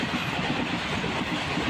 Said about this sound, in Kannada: ಇದೇ ನೋಡಿ ಟ್ರೈನ್ ಗುಡ್ಸಿ.